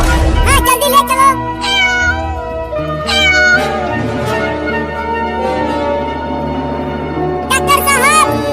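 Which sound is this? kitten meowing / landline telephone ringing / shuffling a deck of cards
kitten meowing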